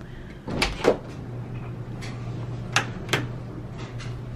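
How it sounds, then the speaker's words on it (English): A closet door in a new house opens with a couple of close wooden knocks and clunks, then a few sharper clicks follow over a low steady hum. "when you come through the closet door"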